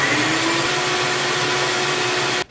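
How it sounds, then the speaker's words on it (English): A shop vac runs steadily, close and loud, sucking up plastic debris left from cutting open Subaru WRX tail lights, with a constant whine that cuts off abruptly at the end. "Other thing I didn't even talk about is the shop vac."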